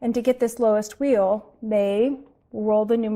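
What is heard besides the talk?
No everyday noise stands out behind the speech.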